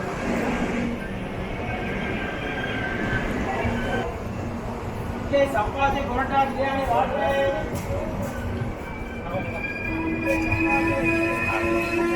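A train passing on the opposite line beside a Tambaram Superfast Express at Virudhunagar station, a steady rolling rumble with metallic squeals and horn-like tones, heard under people talking on the platform.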